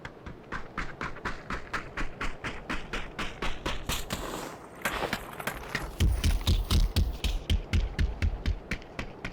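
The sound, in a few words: character footsteps running in PUBG video game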